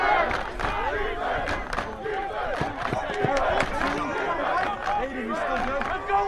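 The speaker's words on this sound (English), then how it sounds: "Might be able to hear some chants of defense on our crowd mic right now." Loud arena crowd at a college hockey game between Seton Hill and Mercyhurst chants and roars continuously, a dense wash of voices with rhythmic rises throughout.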